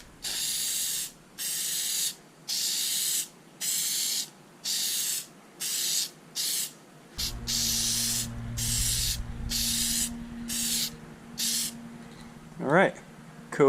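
Plasti-Dip sprayed onto Hyundai car badges in short hissing aerosol bursts, about a dozen of them, close and loud, with a steady hum and a brief whistle entering partway through.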